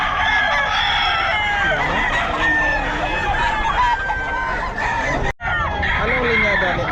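Roosters crow and chickens cluck loudly at a busy pet market in Bocaue, several birds calling over one another up close, with a brief dropout near the end.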